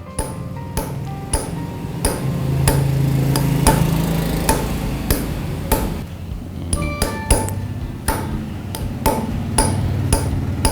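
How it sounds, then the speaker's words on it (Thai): Steady, evenly spaced metallic hammer taps on a punch carving leather, sharp and close, repeating at a regular rhythm with brief ringing after each strike. "ตอกในจังหวะที่มันเท่าๆกัน"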